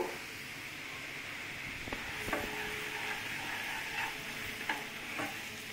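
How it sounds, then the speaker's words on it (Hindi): Semolina roasting in desi ghee in a pan, stirred to brown it, with a steady close sizzle and scraping stir strokes, occasional spoon clicks, and no talking. "इसमें ब्राउन होने तक भुनेंगे"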